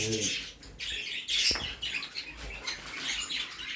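Jumbo budgerigars in a busy pet shop in İzmit, a dense flock chirping and twittering continuously at close range, with bursts of squawks and the occasional flutter of wings.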